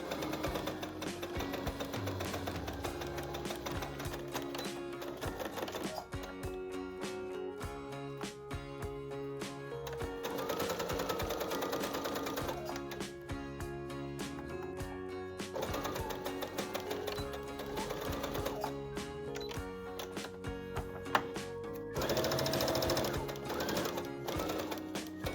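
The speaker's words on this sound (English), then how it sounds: "sew the sides and the shoulders," A domestic sewing machine stitches the side and shoulder seams of a fabric top, running in long steady bursts with a fast mechanical rattle, close and loud, with brief pauses between runs.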